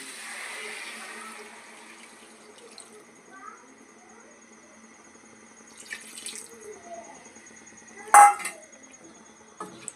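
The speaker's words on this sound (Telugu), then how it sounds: "రుచికి సరిపడా వాటర్ యాడ్ చేసుకుందాం" Water splashes and trickles briefly amid soft kitchen clatter as it is poured into a pot of chicken curry, with a sharper burst of pouring near the end; no voices are heard.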